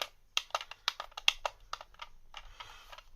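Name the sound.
clicky on/off switch of RC lorry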